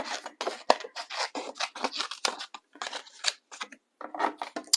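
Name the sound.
scissors cutting out painted paper foliage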